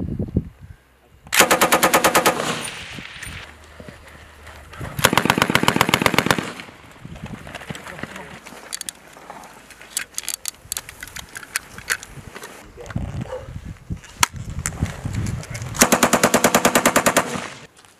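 Machine guns firing during an infantry live-fire exercise, with several loud sustained bursts that recur across the span. Sharper single reports and field noise sit between the bursts.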